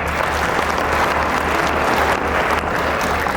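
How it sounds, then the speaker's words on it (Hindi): An audience at a Hindi poetry recitation claps loudly and steadily, a dense, continuous round of applause filling the whole stretch with no voice over it. "और एक बार अच्छे से ताली बजाओ।"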